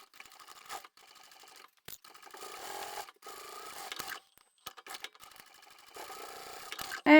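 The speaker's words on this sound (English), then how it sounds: "I'm just sewing with 1/4 inch seam allowance." A sewing machine stitches a vinyl pouch seam in short bursts of fast mechanical whirring, separated by brief pauses, close and moderately loud.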